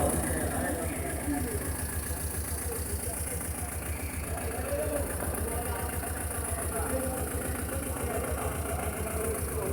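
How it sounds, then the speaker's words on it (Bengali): Private car engine running steadily through a rain-flooded Dhaka street, a continuous low rumble close by with a dense broadband wash of water and street noise throughout. "এখন যমুনায় এখন প্রাইভেট কার চলে, দেখতেই পাচ্ছেন।"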